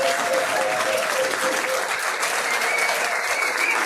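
A pub crowd at a trivia quiz night at The Yard applauds a winning team, producing dense, even clapping that holds at a steady level from start to finish.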